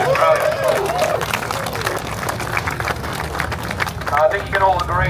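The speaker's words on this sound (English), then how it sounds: "give yourselves a big round of applause" Applause and clapping from a crowd at a GTR Fest track event, mixed with cheering voices and general crowd noise; steady and fairly loud throughout, with a few whistles or shouts rising near the end.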